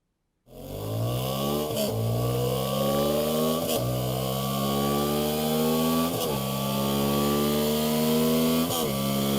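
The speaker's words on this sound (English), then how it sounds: "Let's check out the sound of this Dakar version for the Mivv exhaust." A Honda Transalp XL750 motorcycle with a loud Mivv Dakar aftermarket exhaust holds a steady high idle and climbs repeatedly in pitch, with brief gear-like dips between rising revs.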